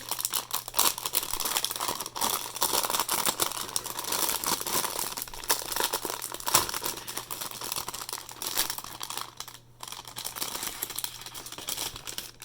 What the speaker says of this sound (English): I put the keyboard back in its plastic covering for dramatic effect